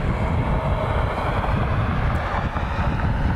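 A Frontier Airbus A321neo airliner at Cleveland Hopkins airport, a loud, continuous broadband engine roar with heavy low rumble and wind-like rush, steady and close throughout.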